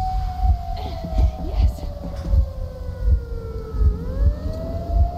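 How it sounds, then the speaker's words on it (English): A siren in the video game Metro Exodus wails with a slowly falling then rising pitch over rhythmic low rumbling thuds, steady and fairly loud throughout. "That siren does not sound pleasant"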